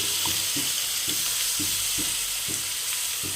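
Red chili powder and ground spice paste sizzle in a hot pan for a potato curry, a steady loud frying hiss with soft rhythmic stirring scrapes every half second, no voices.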